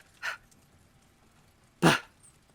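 Two short breathy huffs with a pause between them, a person's voice imitating a dog panting heavily.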